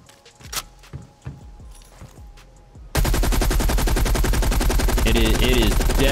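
An M60 light machine gun fires in Call of Duty Cold War, a few scattered footsteps and thuds giving way to a loud, sustained burst of rapid automatic fire that runs to the end.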